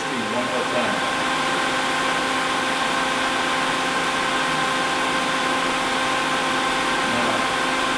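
A Fanuc Robodrill Alpha-T21iD three-axis vertical machining center with a 21-station tool changer and 20,000 RPM spindle running, giving a loud steady whine and hum with tonal bands, near and continuous.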